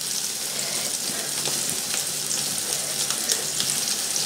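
Homemade burgers made from mince sizzle steadily in a pan over moderate heat, a continuous dense frying crackle that stays even throughout with no talking.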